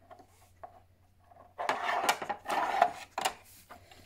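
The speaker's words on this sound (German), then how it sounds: "So, jetzt muss ich die Schubladen noch aufmachen." Drawers of a wooden dog puzzle toy sliding open, a few soft clicks followed by a burst of close wooden scraping and rubbing, with short pauses between movements.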